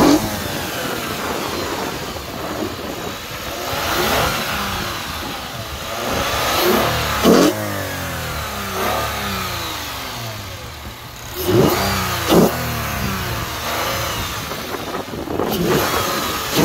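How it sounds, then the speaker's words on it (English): A Lexus IS350 fitted with a cold air intake revs repeatedly, the engine swelling through several rising pulls and easing back between them, loud and close with no talking. "So you can intentionally make the noise so you can hear the cold air intake."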